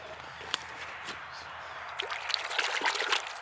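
Water trickling and splashing while hands are washed outdoors after planting fruit trees, a soft steady running stream with a few brief clinks and splashes, fairly faint and without talk.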